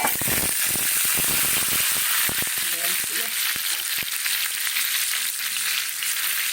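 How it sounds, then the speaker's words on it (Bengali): Potatoes frying in hot oil for a vegetarian aloo dum, a loud continuous sizzle with crackling pops and a few scraping stirs through the first half. "আলুটাকে সুন্দর করে ভেজে নেবো"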